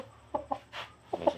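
Boston Roundhead gamefowl clucking close by, a few short clucks in two brief bursts over a low steady background.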